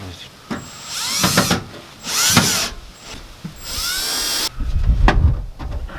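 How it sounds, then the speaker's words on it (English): A power drill whirs in several bursts into a Nissan 240SX aluminum door panel, its pitch rising and falling as it bites into material, with short pauses between runs and a closer low rumble at the end. "You just drill it into here,"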